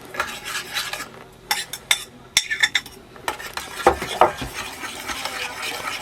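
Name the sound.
mixing mashed bananas into banana cake batter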